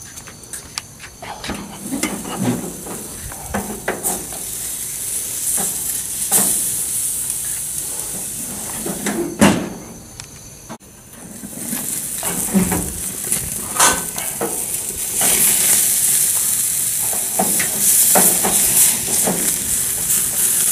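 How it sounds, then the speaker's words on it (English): A tri-tip steak sears over the high flame of a propane grill, a continuous crackling sizzle and hiss lasting throughout, with occasional sharper pops and scraping touches. "with the power of the propane to go ahead and put a sear on it"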